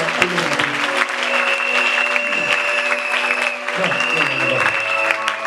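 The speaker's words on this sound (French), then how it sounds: "J'aimerais que nous acclamions le Seigneur." A church congregation at a New Year's Eve service applauds and cheers in praise of the Lord, with sustained dense clapping and crowd voices filling the space, and a louder voice calling over the applause.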